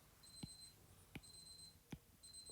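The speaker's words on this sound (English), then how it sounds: "Hopefully that beeping's going to stop in a minute." An electronic alarm beeps in a steady repeating pattern, each high tone cycle punctuated by a soft knock, fairly faint against room noise during a maths recap lesson.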